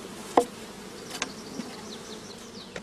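Honey bees crowd a shook swarm of about 2.5 pounds in a gauze-covered swarm box, giving a faint, steady buzz with a few sharp clicks and taps.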